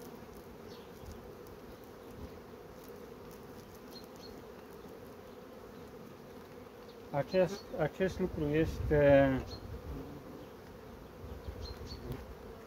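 Honeybees hum steadily and faintly at the hive, with a brief louder buzz passing close by midway through and someone speaking briefly over it.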